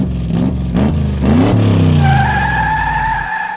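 A movie car chase with cars skidding: loud engine roar and revving with a rising tire squeal that settles into a sustained screech, dense and close, no talking, ending abruptly.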